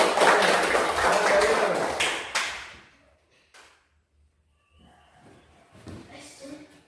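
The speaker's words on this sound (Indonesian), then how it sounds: "Oke, tepuk tangan untuk Dino." A class of young students claps during a physical education lesson, a dense burst of applause for about two seconds that quickly dies away, followed by quieter scattered sounds and faint voices.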